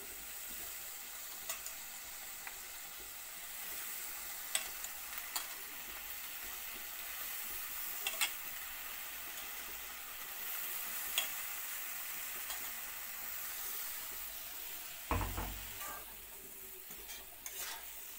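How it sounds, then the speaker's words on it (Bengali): Kalmi greens (water spinach) with salt, turmeric and a little water fry softly in a pan, a low steady sizzle broken by occasional sharp clicks and scrapes of stirring, quiet and close with no talk. "এবার দিয়ে দিলাম কলমি শাক।"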